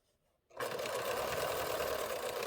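Sewing machine stitching binding on a table runner starts after a short quiet pause, then runs in a fast, even, continuous whir close to the listener.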